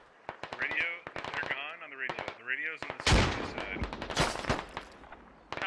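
Rapid machine-gun bursts and scattered rifle shots in the military shooter game Squad, dense cracking fire with incoming rounds over a voice talking, the volleys coming in quick repeated clusters and a heavy barrage at the midpoint.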